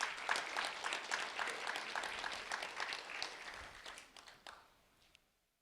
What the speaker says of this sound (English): a round of applause for Andrew Carson,